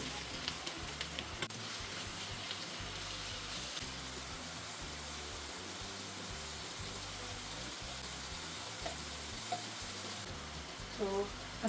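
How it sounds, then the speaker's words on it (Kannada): Sliced onions deep frying in plenty of hot oil in a home kitchen, a steady dense sizzle and crackle running throughout with faint scattered clinks near the end. "ಸೊ ಈ ಆನಿಯನ್ಸ್ನೆಲ್ಲ ಇವಾಗ ಫ್ರೈ ಮಾಡ್ಕೊಳ್ಳೋಣ"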